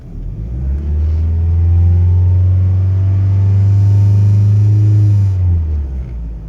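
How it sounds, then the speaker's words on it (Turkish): Opel Vectra B engine revved while parked, a loud steady low rumble that swells and holds for several seconds before dropping back to idle, close and without talk. "Evet biraz gaz verelim arabamıza."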